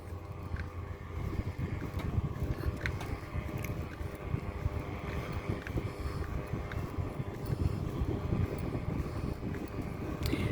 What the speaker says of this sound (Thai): เราจะได้ยินเสียงเรือนะคะ